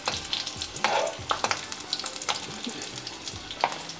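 Stuffed chillies frying in a pan as they are turned, with a continuous sizzle broken by repeated scraping and clattering from the spatula at an irregular pace, close and fairly loud, without any talking.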